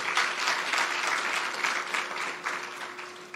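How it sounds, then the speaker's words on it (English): An audience at a tourism network event applauds the Minister of Tourism, a moderately loud, steady clapping from many hands with a faint tonal hum underneath, tapering slightly toward the end. "let's give him another round of applause, our Minister of Tourism."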